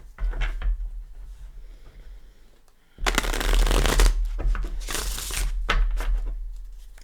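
A Gilded Tarot deck being shuffled up close, with a short light riffle first, then a quieter pause before several seconds of loud, continuous papery card shuffling.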